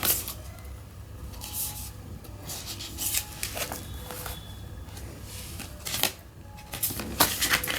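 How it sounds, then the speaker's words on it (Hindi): Tarot cards being shuffled and drawn from a deck during a Hindi tarot reading: close, soft papery riffles and slides with scattered light taps and flicks, fairly quiet and continuous, with no talking. "that's why it's taking time for me to take out the cards"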